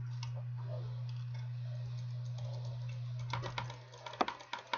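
Dense keyboard typing with quick clicky keystrokes over a steady low hum, the taps growing louder and more scattered toward the end.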